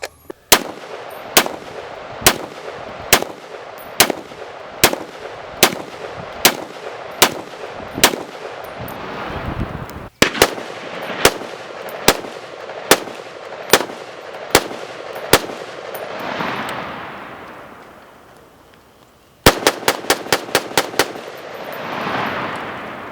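An M14 rifle with a forged receiver and wood stock fires 150 grain remanufactured full metal jacket rounds outdoors, loud sharp shots in a steady slow cadence, then a fast burst of rapid shots near the end.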